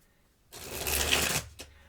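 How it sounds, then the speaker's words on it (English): A deck of tarot cards is shuffled close by in one brisk riffle of about a second, ending in a soft tap. "I'm gonna start shuffling the tarot cards here."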